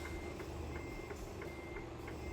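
A truck in Euro Truck Simulator 2 reverses to a regular series of short warning beeps, evenly spaced and fairly quiet, over a steady low engine hum.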